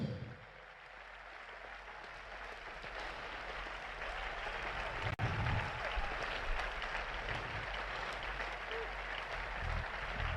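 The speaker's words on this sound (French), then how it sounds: "Acclame très fort." Sustained applause from a gathered congregation at a church funeral service, a dense, continuous wash of clapping at moderate distance that swells slightly after a brief click and holds steady throughout.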